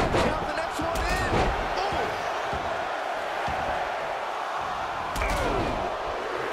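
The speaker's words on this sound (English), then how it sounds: "Listen to this crowd count the next one in." Virtual arena crowd in WWE 2K24 counting down to the next Royal Rumble entrant: a continuous crowd roar with a few heavy thuds and swells, with commentary voices talking over it.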